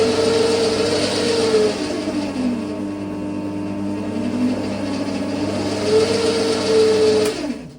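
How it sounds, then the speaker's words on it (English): A polishing machine in a machining workshop spins up for a test run, a loud steady motor whine with rising and falling pitched tones, running continuously before cutting off near the end. "So I'll turn the polishing machine on and we'll just give it a test rip."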